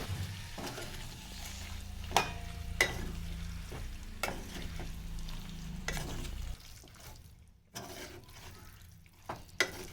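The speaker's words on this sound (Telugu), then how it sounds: "ఇప్పుడు మనం మ్యాగ్నేట్ చేసి పెట్టుకున్న చికెన్ వేద్దాం చికెన్ వేసిన తర్వాత మసాలాలు పెట్టే వరకు బాగా చికెన్ని కలుపుకుందామండి" Marinated chicken pieces stirred in a hot pan with masala for Mughlai chicken, giving a steady low sizzle broken by sharp scraping and clanking strokes of the spoon, close and moderately loud with no talking.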